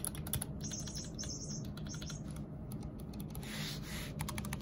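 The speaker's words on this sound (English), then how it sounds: "oh wow, the pressing on these keys are really nice" Low-profile keys on a Keychron K7 slim 65% keyboard click in quick, uneven bursts of close typing, with no talking and faint bird chirps in the background.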